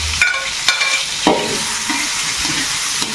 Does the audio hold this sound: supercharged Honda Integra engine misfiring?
no